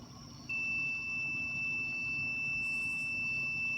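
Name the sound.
thermometer over-temperature warning beeping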